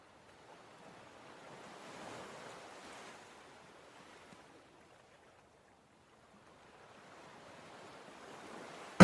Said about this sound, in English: We're listening to SpongeBob waves and ambient sounds.